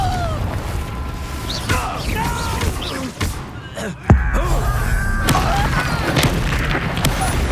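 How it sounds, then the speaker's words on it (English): A Confringo spell explosion in Hogwarts Legacy on PS5: a sudden booming blast that stands out from busy game effects, with a shouted incantation and whooshing magic sounds around it. "Confringo!"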